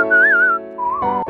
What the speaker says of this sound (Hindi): राम उस सीटी की आवाज सुनकर दौड़ा चला आता था।